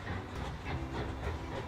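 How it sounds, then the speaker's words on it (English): Steam locomotive in the train-building game Mashinky, a steady low rumbling chug with heavy rhythmic thumping and a faint hiss, fairly even and continuous with no talk. "It's like this heavy thumping of steam."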